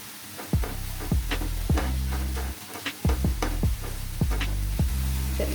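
Spring roll vegetable stuffing seasoned with salt and black pepper, stirred in a hot pan: a continuous sizzle broken by repeated scraping strokes of a spatula against the pan, about a dozen in an uneven rhythm, close and fairly loud.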